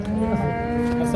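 A Holstein Friesian cow moos nearby at a cattle market, one long, loud, drawn-out low call that fills the whole moment.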